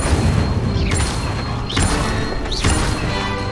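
Incendio fire spell cast repeatedly in Hogwarts Legacy, a video game: three whooshing, crackling bursts roughly every 0.8 seconds over a dense, steady game soundscape, loud and close.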